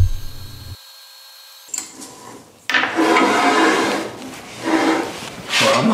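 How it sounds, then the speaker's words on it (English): A power grinder works the front face of a wooden handle block for a Damascus san-mai kukri, starting after a short quiet gap and running as a loud, sustained abrasive whir with small dips, no talk. "I grind the front of the block of wood so that there's zero air gaps."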